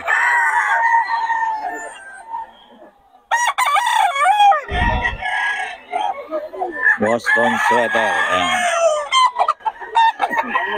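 Roosters crow loudly and repeatedly over clucking chickens at a market in Bocaue, with someone talking briefly amid the noisy flock.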